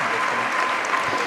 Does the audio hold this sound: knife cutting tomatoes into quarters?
no